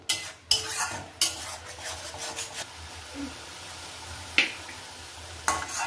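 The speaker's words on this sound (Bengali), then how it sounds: "এখানে কষিয়ে নিচ্ছি যেন পেঁয়াজ আদার কাঁচা গন্ধটা না থাকে।" Onion and ginger with garlic paste being sautéed and stirred in a pan for haleem: intermittent scraping strokes of a spatula against the pan over a faint, low sizzle, with quiet gaps between the louder stirs.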